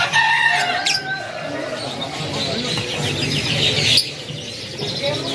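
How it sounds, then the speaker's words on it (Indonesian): Lovebirds chirp at a kiosk in the Pramuka bird market, a busy overlapping chatter of sharp tweets and calls from several caged birds close by, with other market birds mixed in. "bagi kalian yang lagi nyari burung lovebird, silahkan kalian bisa merapat kemari ke kiosnya Pak Kasmin"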